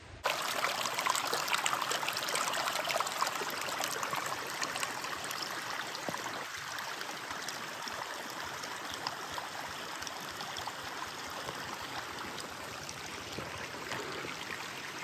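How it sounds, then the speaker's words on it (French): Snowmelt stream running down a hiking trail, a steady broadband rush and trickle of water that stays constant and fairly close for the whole stretch, with no voices. "le sentier est vraiment devenu un ruisseau avec la fonte des neiges"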